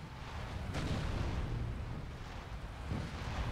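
An artillery barrage in Company of Heroes, a World War II strategy game, rolls as a steady, dense rumble of distant blasts, with a sharper impact near the start and another swell toward the end.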